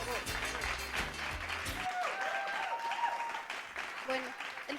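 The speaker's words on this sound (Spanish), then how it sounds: "Fuertes los aplausos, por favor." Audience applause for a young woman from the Cumbasconde community at a Kuyay Raymi community gathering, steady crowd clapping with talk and music mixed in underneath.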